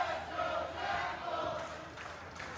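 A wrestling crowd at a CCW Bash at the Brew event cheers for Jackal Stevens, a faint, distant roar of voices rising and falling with scattered shouts.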